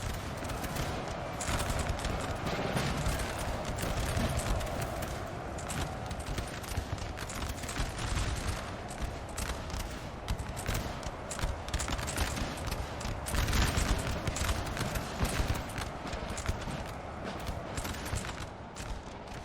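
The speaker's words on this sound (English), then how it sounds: "The volley fire is getting a little more regular." Musket volley fire rolls on without pause in a Napoleon Total War winter battle, heard as dense, ragged crackling gunfire with a constant background rumble from a large clash.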